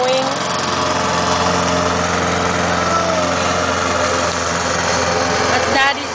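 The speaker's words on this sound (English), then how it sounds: "Mowing." A lawn mower runs loud and close throughout, a steady droning engine during mowing with no break, while a voice is faintly heard over it.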